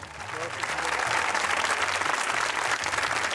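Audience applause welcomes a poet to the stage at an Eid poetry gathering, dense crowd clapping that swells and holds steady, with some background voices mixed in.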